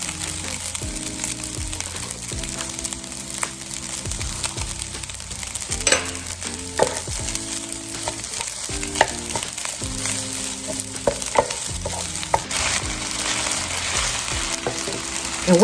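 Fried rice with butter stirred in a hot pan, a continuous sizzle with irregular scraping and clanking of the utensil against the pan, under quiet background music.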